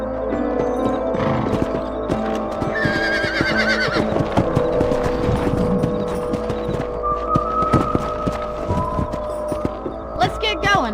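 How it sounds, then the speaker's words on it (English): Rhythmic clip-clop of horse hooves with occasional snorts and a whinny, over a low steady hum, in the video game Red Dead Redemption. "Let's get back on the horses and see what else is going on."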